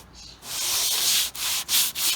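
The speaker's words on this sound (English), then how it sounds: "I'm using this sort of as a sanding stick" A dowel rod used as a sanding stick rubs along a curved body contour on a 1966 Dodge Dart GT, giving steady close abrasive strokes with brief pauses between passes.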